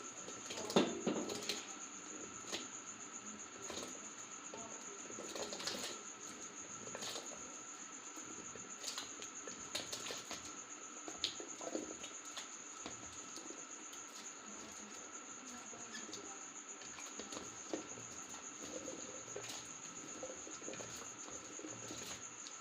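Water boils in a cooking pot for lasoora and mango pickle, a quiet continuous bubbling with scattered clicks and pops over a steady background hum.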